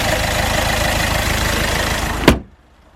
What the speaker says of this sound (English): that's the 1700 diesel engine